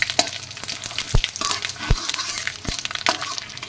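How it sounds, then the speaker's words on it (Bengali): Panch phoron five-spice and two bay leaves hit hot oil in a pan, giving a steady crackling sizzle with sharp spits and pops and a few stirring clicks, close and alone. "তেল গরম হয়ে গেছে, এবার আমি দিয়ে দেবো 5 ফোড়ন, দিয়ে দেবো 2টো তেজপাতা"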